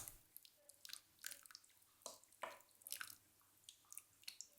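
Water dribbling from a long-necked kvass or beer bottle with a loosened cap into a 0.5 litre cup holding a rooted grapevine cutting: quiet, close, irregular drips and small trickles.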